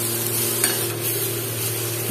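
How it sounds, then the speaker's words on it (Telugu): A spoon stirs chopped tomato in a hot pan for rolu dosakaya pachadi, giving a steady close sizzle with faint scraping throughout, no voices. "ఇలా స్పూన్ తో తిప్పుతా ఉంటే కింద మాడిపోకుండా ఉంటుందని"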